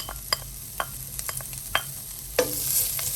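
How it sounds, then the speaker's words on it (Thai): Garlic sizzles in a little hot oil in a pan. Faint crackling runs under a series of sharp spatula scrapes and clicks, and the hiss swells toward the end. "ร้อนนะคะก็ใส่กระเทียมลงไปเจียวค่ะ"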